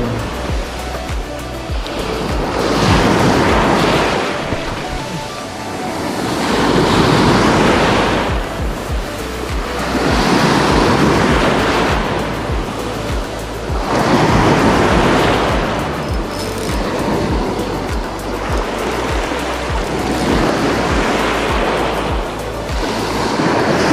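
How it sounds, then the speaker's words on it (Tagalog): Strong ocean waves crash onto the shore at Puerto Galera, Mindoro, Philippines, in loud, regular surges about every five seconds, each swelling and then receding, with no voices heard. "Medyo malakas ang alon ngayon, no?"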